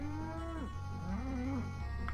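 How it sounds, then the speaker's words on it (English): Low, drawn-out cow moos from the N64 game South Park repeat over a steady, droning background tone, sounding synthetic and game-like. "uh-oh. I'm hearing cows."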